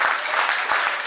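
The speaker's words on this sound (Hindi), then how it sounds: "सभी अपने लिए जोरदार तालियां करेंगे, अपने लिए, सेल्फ के लिए," Students in a school hall in Aligarh, gathered for a yoga workshop, applaud themselves in a brief, dense burst of clapping that stays even and fills the whole moment.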